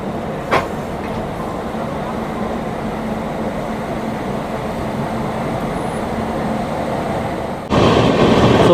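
Passenger express train hauled by a WAG7 locomotive on the Ranchi to Delhi route in Jharkhand, heard from inside as a steady loud rumble and rattle with a brief knock early on and a louder surge near the end.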